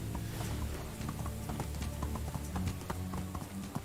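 Horse hooves in Medieval Dynasty clip-clopping in a steady quick rhythm, close and clear over a low ambient background, with no talk.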